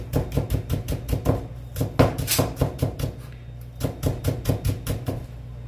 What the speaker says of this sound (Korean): 잡았을 때 엄지손가락 두께만큼만 쫑쫑쫑쫑 썰어서 준비할게요